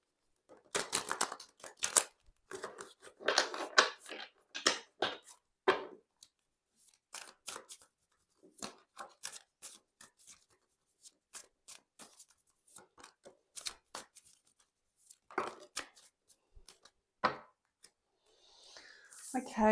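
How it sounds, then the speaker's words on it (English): Tarot cards drawn from a deck, heard as scattered close, soft slides, flicks and snaps of card stock, sometimes in quick clusters, with quiet pauses between and a brief rustle near the end. "I'm just going to get a couple more cards here"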